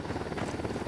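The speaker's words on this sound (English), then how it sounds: "We got a chopper coming in." Helicopter rotor and engine roar in the video game Ghost Recon Wildlands, loud, dense and steady throughout a short burst, with no talk over it.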